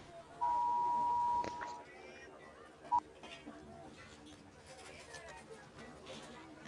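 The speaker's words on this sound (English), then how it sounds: "Forgot my phone was on for those type of alarms." A mobile phone alarm gives a steady, loud electronic beep lasting about a second, followed by a brief second beep, over quiet background chatter during a Civilization IV prehistory game session.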